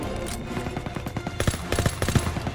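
Rapid bursts of automatic gunfire from a weapon in Call of Duty: WWII, the shots rattling in quick uneven volleys that grow louder and denser in the second half.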